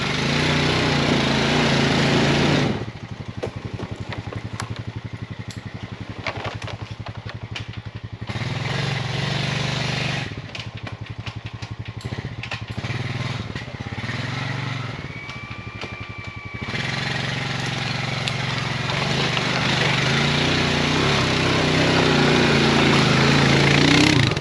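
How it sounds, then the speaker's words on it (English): A Honda ATV engine drones loud and close in snowy winter woods, its note dropping and lugging as the machine climbs a short hill over a log, with brief dips in the running. "You might have heard just that little bit of lugging sound, eh?"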